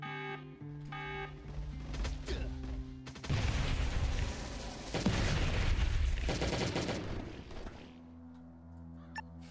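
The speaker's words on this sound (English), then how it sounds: "The nade just exploded in my face." Grenade explosions in the zombie survival game Last Day on Earth: Survival, a dense burst of booming blasts and crackling debris lasting several seconds over game music, loud and close with no talking.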